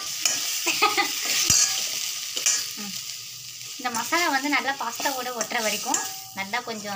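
Masala pasta frying and being stirred in a pan: a steady close sizzle with stirring scrapes throughout, and a voice talking over the latter half.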